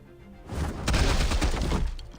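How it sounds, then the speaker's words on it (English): Gunfire in a Batman video game: a dense, rumbling burst of rapid shots swelling after a quiet start and holding loud for over a second before tapering off, with no talking over it. "He's just shooting"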